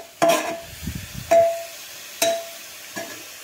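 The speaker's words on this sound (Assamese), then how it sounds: "দেশী ঘি এনেকৈ আমি লৰাই থাকিব লাগিব" Grated carrots frying in desi ghee for gajar halwa, stirred with a spatula in four spaced scraping strokes with clinks against the pan, over a faint sizzle, close and without talk.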